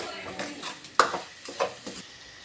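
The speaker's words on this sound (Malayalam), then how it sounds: "ഒരു ടീസ്പൂണോളം മല്ലിപ്പൊടിയും കൂടെ ഇട്ട് നന്നായിട്ടൊന്ന് വഴറ്റിയെടുക്കാം" Garam masala and coriander powder stirred in a pan for a cabbage side dish: uneven spoon scrapes and taps against metal with a soft frying hiss, close, one sharper clank near the middle.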